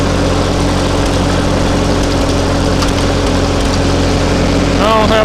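A Ferguson TO-20 tractor engine runs steadily after being throttled up, a loud continuous mechanical drone with a deep rumble and harmonic hum that holds close and even throughout, with a slight shift near the end.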